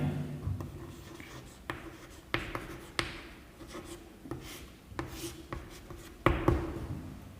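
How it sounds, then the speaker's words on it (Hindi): Chalk or marker scratching across a classroom board during a chemistry lesson, a run of short strokes and taps with brief pauses between them, close and clear without any talk. "और मैं अभी इसको बोर्ड पे लिखूंगा।"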